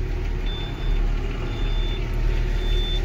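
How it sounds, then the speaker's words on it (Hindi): Tata 2823 truck reversing, its diesel engine rumbling low and steady beneath a thin, evenly spaced reversing beep that repeats three times. "देखिए ये देखो बैक जा रही है, देखो यहाँ पर देख सकते हैं बैक जा रही है गाड़ी"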